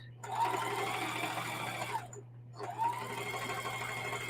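A sewing machine stitches quilt strips with a steady, close, buzzing hum, pausing briefly midway before starting up again and running on evenly.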